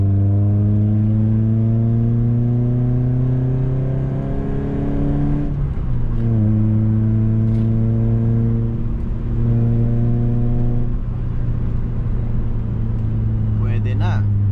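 Steady engine drone of a BMW Z3 with a new aftermarket exhaust, heard from inside the cabin, rising through gears with shift breaks around six and ten seconds; a moderate, continuous hum with a faint click near the end.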